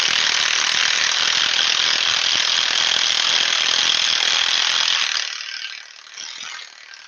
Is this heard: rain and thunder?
no